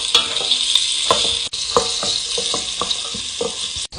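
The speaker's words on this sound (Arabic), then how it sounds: "نحمس البصل" Onions frying in oil with spices, a steady bright sizzle broken by repeated clinks and scrapes of a spoon stirring the pan, close and fairly loud with no voices.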